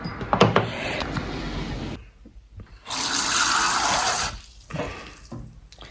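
Tap water runs into a sink or container to wash paint brushes, starting with a few splashes, then a steady loud gush for over a second before it stops, with no talking.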